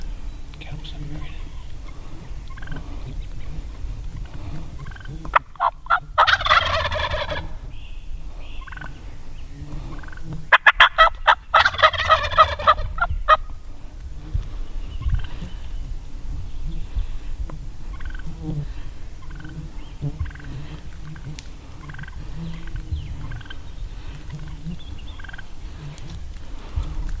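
Wild turkeys gobbling loudly in two bursts during a turkey hunt, with hushed whispering and quiet movement in between.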